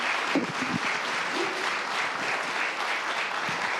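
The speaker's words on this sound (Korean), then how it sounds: "큰 박수로 환영의 인사 해주시면 감사하겠습니다" A church congregation during a Sunday worship service gives warm, sustained applause to welcome people coming to the front, an even wash of clapping with a few brief voices underneath.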